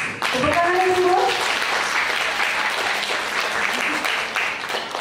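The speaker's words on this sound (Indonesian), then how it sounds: "Tepuk tangan Ibu." Audience applause at a community meeting, dense and close clapping that starts abruptly, overlapping a voice at the start, then holds as a steady loud wash.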